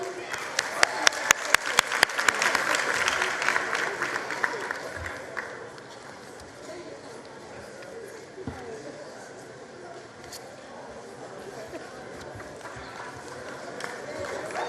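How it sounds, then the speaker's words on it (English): An audience applauds at a matric results announcement, sharp loud claps at first that soon thin into a faint, sparse patter under a general room hum for the rest of the stretch. "A round of applause for Tabiseng"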